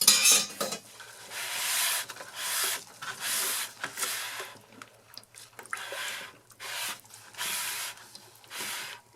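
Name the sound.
stirring charcoal soap batter at light trace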